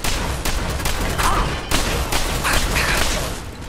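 Gunfire rattles through a Fallout 4 firefight in dense, overlapping bursts. It is loud and nearly continuous for the whole stretch, with no talking over it.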